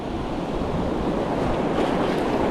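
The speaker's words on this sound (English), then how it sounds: "Make sure I don't get hit by any good waves when I'm doing it." Ocean surf on a beach during surf fishing for salmon, a continuous loud wash of breaking waves mixed with wind rumbling on the microphone, no voices.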